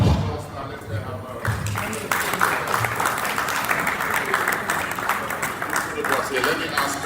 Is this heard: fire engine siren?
no